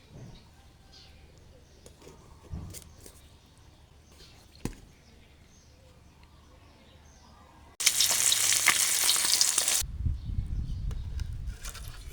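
Mackerel frying in a hot pan, a sudden loud hiss of sizzling oil that bursts in partway through after quiet kitchen bumps, then settles into a steady crackle.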